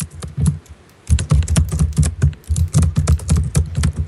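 Rapid, forceful typing on a computer keyboard, a dense run of sharp clicks and thuds with brief uneven pauses, close and loud, with no speech.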